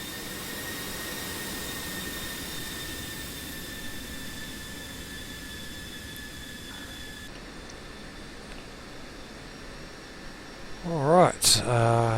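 An F-16C jet engine in a flight simulator game idles steadily while taxiing, a continuous whining hum with a high tonal whistle. A voice briefly cuts in near the end.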